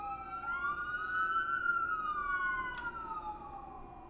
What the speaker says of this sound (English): before I got rudely interrupted by some sirens